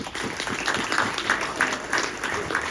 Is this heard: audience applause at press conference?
yes